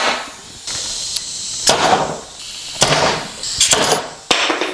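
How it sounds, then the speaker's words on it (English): A pneumatic pin gun fires into a glued wooden headboard frame, several sharp snapping shots with brief air hisses, spaced irregularly and close by, with no talk. "We've got our pin gun here as well."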